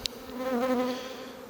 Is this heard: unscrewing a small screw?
no